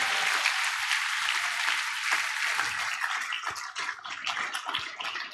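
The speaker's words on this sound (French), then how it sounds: "Est-ce qu'on peut acclamer encore le Seigneur?" A church congregation applauds the Lord during a service. The clapping is loud and sustained at first, then thins into sharper, scattered claps toward the end, with no speech.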